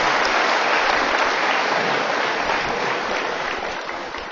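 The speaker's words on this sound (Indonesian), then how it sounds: "semua udah tepuk tangan nih" Dense, steady audience applause fills the room at a talk show, loud and continuous before tapering slightly toward the end.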